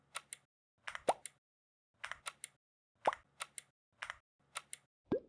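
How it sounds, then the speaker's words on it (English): Quick clusters of sharp computer mouse clicks at a desk, bunched in twos and threes, close and fairly quiet, with mouth-made popping sounds mixed in between. "That's my mouse."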